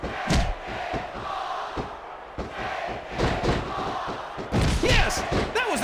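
A crowd roars in a wrestling arena in the video game SmackDown vs. Raw 2006, cheering and yelling in waves over thumps and slams of a women's match, loud and continuous.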